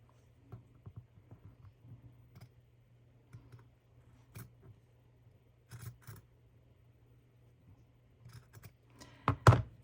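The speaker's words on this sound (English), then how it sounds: "you just want to trim down the edge" Scissors trim the edge of a stitched fabric junk journal cover in a quiet room, giving a series of soft, sparse snips and clicks that build to a few louder, sharper cuts near the end, with no talking.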